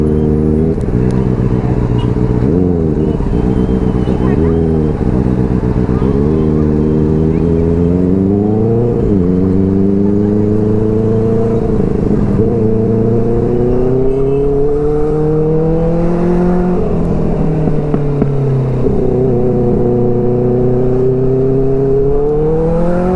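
Benelli 300 motorcycle being ridden on city streets, its engine droning loud and close throughout, pitch rising and falling smoothly as the rider accelerates and eases off, with constant wind rush.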